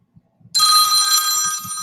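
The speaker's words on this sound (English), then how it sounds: "This is my ringtone." A telephone bell rings loudly and continuously, a bright, sustained electronic ringtone that begins abruptly after a moment of near silence, with faint low thumps underneath.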